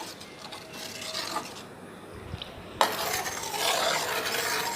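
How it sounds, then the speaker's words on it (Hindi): A sabudana papad mixture is stirred in a pan over medium heat, with soft scraping and gentle bubbling. A brief lull is followed by a sharp clink and a louder, continuous stirring hiss. "इस प्रकार से लगातार चलाते हुए हमने इसे पकाना है"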